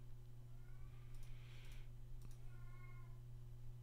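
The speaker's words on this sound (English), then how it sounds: "God, you hear this cat in the background?" A cat meows a few times in the background, faint and somewhat distant, over a steady low electrical hum with no one talking.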